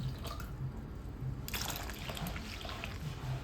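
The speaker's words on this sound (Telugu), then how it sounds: "దీంట్లో వాటర్ పోసుకోవాలండి" Water poured over tomatoes in a pot for rasam, a steady trickle and splash that keeps going near and fairly quiet.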